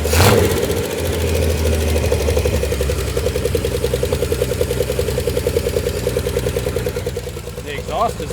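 An abandoned 1968 Chevrolet Impala runs with a rough, poor exhaust, its steady loud mid-pitched engine drone pulsing throughout, easing slightly near the end with a few faint clunks.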